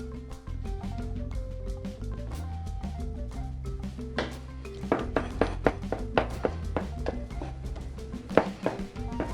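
A spoon stirs beans in a cooking pot, with irregular clinks, taps and scraping knocks against the metal that grow busier and sharper toward the end, and no voices.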